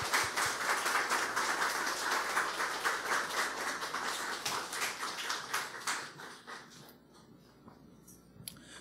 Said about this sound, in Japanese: 皆さん、拍手で迎えたいと思います。